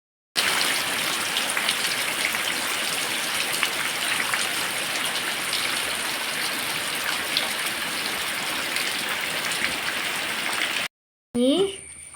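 Steady rain pours down in a dense, even hiss that runs almost unbroken for about eleven seconds, then cuts off briefly before resuming.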